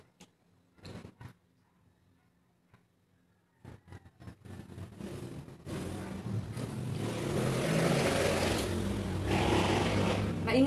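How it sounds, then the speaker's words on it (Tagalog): Roadside traffic noise from beside a street swells from a faint, sparse start into a loud, steady rush of passing vehicles in the second half, with a few brief knocks early on. "Maingay talaga dito guys kasi nasa tabing kalsada kami."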